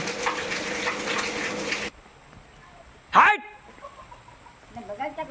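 Steady hissing rain for a couple of seconds, then it cuts off abruptly, followed by a sharp loud squawk and faint voices.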